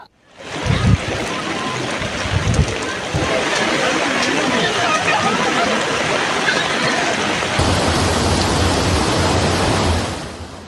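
Heavy monsoon rain pours steadily around Gudalur in the Nilgiris, a loud, continuous broadband hiss with a few low thumps early on, the downpour holding constant for about ten seconds before easing off at the end.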